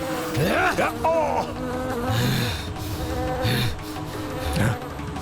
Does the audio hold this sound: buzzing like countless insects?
yes